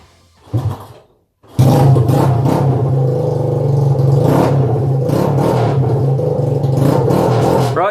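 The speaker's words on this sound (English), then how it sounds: "I wanted to hear how the exhaust sounded with it being chopped off" Honda CB125 cafe racer with a chopped exhaust, a brief blip then a loud, sustained engine rev with rough, rattly drone close by, no talking.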